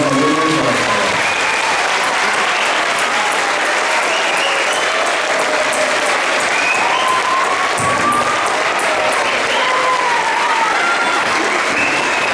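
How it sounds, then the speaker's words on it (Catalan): A theatre audience gives a strong round of applause for school pupils after a Christmas festival performance, loud sustained clapping from a large crowd, with faint voices and cheers mixed into the wash. "Un fort aplaudiment per tots els alumnes de l'escola"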